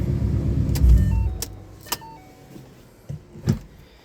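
A Ford Mustang with a Timeslip axleback exhaust idles with a low rumble that cuts off as it is switched off, followed by a few sharp clicks and thumps in the quiet cabin.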